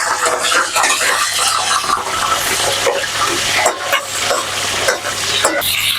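Camel heart fries loudly in hot fat in a pan, a dense, close, continuous sizzle with bursts of crackle and stirring scrapes, with no voices.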